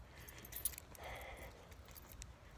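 Keys jangling close by, a faint bright metallic rattle with a few sharp clinks, heard alone in a quiet space.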